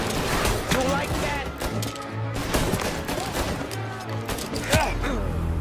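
Gunfire in the video game Mafia, scattered shots and bursts popping through a busy mix of game sound, with voices talking over the shooting.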